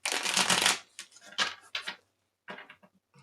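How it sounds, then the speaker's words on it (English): Quick riffling bursts of tarot cards being shuffled, one long flurry followed by a few shorter, choppy shuffles close by. "Let me give you a little bit of a shuffle."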